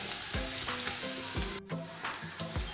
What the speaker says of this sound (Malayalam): ഇത് നല്ലതുപോലെ ഒന്ന് വഴറ്റി ആ ഇഞ്ചിയുടെയും വെളുത്തുള്ളിയുടെയൊക്കെ പച്ചമണം മാറുന്ന വരെ വഴറ്റിയെടുക്കാം